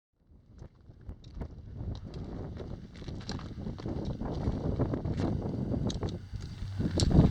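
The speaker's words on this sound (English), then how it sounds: "Well, it's really windy." Gusty wind buffets a remote hillside in an old mining district, a low rumbling roar that swells and builds steadily toward the end, with no voices heard.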